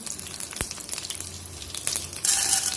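Curry leaves dropped into hot oil with spattering mustard seeds for vegetable upma, giving a soft steady crackle with a brief sharp burst early and a louder hissing flare of sizzle near the end.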